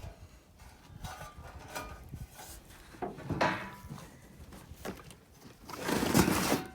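Truck rocker panels and cab corners are pulled from a cardboard box, making faint scattered scrapes, rubs and knocks of sheet metal against cardboard, with a fuller rustling burst near the end.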